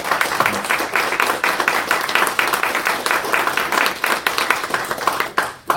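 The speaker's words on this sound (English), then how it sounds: "Give them a round of applause for that." Conference audience at an information security event applauds in a dense, steady burst of many hands clapping, fairly close and even throughout before cutting off sharply at the end.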